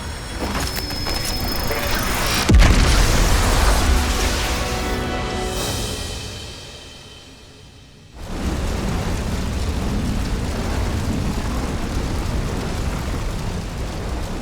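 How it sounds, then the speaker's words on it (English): A huge explosion in a Xenoblade Chronicles 3 cutscene, a sharp loud blast that rolls into a long fading roar, a brief near-silence, then another sustained heavy rumble, with no talk. "Now that was an explosion."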